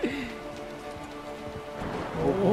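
Steady rain falls in the co-op prison-break game A Way Out on PS4, a continuous wash of drops over sustained tonal game music that swells slightly toward the end.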